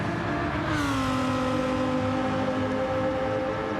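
Porsche race car engine on the Spa circuit in a racing video game, a steady high droning whine that holds pitch with a slight shift, continuous and close.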